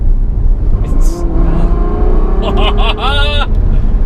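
A Ferrari GTC4Lusso's exhaust growls and revs up loudly, heard from the back seat inside the cabin, rising in pitch, with a voice speaking over it.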